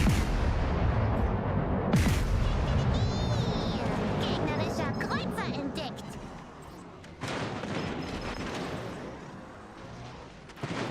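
Heavy naval cannon fire from warship guns in the naval battle game World of Warships Legends, loud booming salvos rolling over one another with a sharp blast near the two-second mark, mixed with game effects.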